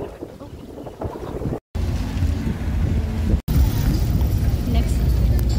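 An island-hopping boat's engine drones steadily off Boracay with wind buffeting the microphone and water noise, continuous and close throughout.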